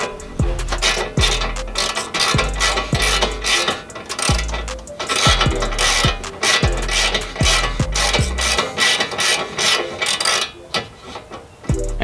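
Ratchet tightening the castle nut on the upper ball joint of a Lexus IS300 during wheel hub and steering knuckle replacement, giving a close, steady series of sharp clicking pawl strokes with metallic knocks, no talking.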